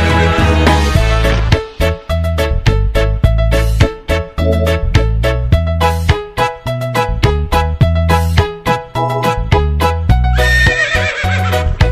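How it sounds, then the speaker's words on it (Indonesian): Rhythmic clip-clop of a horse-drawn delman cart's hooves trots steadily along, loud and close, with a horse whinnying at the start and end. "Suara sepatu kuda."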